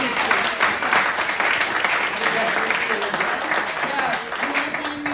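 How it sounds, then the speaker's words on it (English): Audience applause for Alicia at the close of an evening talk, dense continuous clapping from a crowd that stays fairly even, with faint voices threaded through it. "Applause for Alicia."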